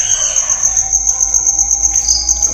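A bird calls at an old, eerie well site, a steady high-pitched tone running through the whole stretch with faint background ambience and no talking.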